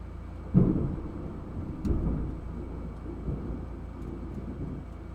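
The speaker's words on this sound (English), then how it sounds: "The storm's getting closer." Thunder rumbling from an approaching storm, a low boom followed by a second rolling peal and fainter grumbles, moderately distant with no voices.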